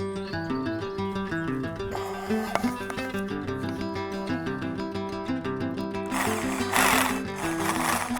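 A power drill whirs steadily with a sustained mechanical whine, pitch wavering as it bites into material, then a harsher grinding burst near the end.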